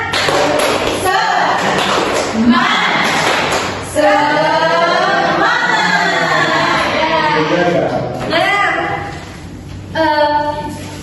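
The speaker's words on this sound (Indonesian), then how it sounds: "Tepuk semangat." Classroom of children doing a rhythmic 'tepuk semangat' spirit clapping routine led by a teacher, patterned claps and taps mixed with chanting voices, fairly close and loud.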